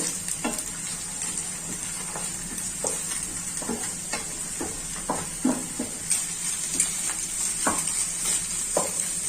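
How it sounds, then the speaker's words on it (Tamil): Chicken fried rice is stirred in a hot pan with a steady bright sizzle while a utensil scrapes and taps the metal in repeated, irregular strokes close by. "பாருங்க, ஒரு கிளறி விடுங்க."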